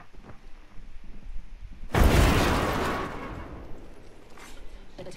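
Grenade blast in an online battle royale shooter game: a sudden loud boom with a long rumbling decay that fades over a few seconds, above a low bed of game noise.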